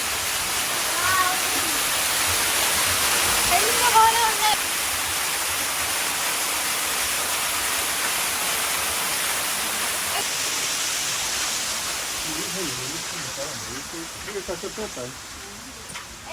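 A large waterfall in Gangwon, South Korea, roars as a steady, loud broadband rush throughout, with brief voices talking over it now and then.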